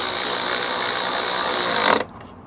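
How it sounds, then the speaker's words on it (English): A ratchet with a 10mm socket clicks steadily as it tightens the roof bars on a Fiat Panda 100HP, a dense, close metallic rattle for about two seconds that then stops abruptly. "now using a 10mm socket"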